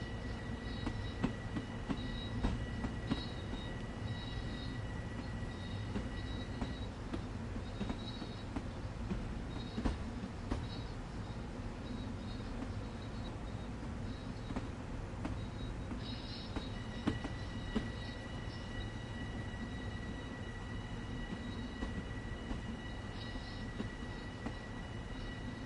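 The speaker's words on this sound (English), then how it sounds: "Crawling across the points at minimum power, 10 mph speed limit." A Long Island Rail Road train in the Train Sim World game crawls at minimum power across points under a 10 mph limit, giving a steady low rumble with faint wheel and track tones and some higher squeals.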